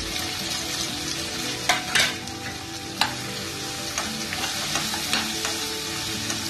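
Cashews and spices fry in a hot pan for paneer butter masala, giving a steady crackling sizzle broken by a few sharp clinks and scrapes of stirring.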